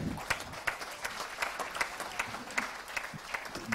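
An audience at a business-developer awards event applauds a speaker, a steady, moderately faint patter of many hands clapping with a few sharper claps standing out.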